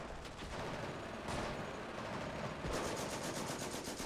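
Sustained machine gun fire rattles through a World War II battle in the strategy game Company of Heroes, dense rapid bursts layered over continuous loud battlefield noise, with no voices.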